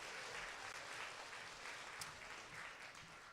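An audience at a school spelling bee claps steadily for several seconds, a faint, even patter of applause with no talking.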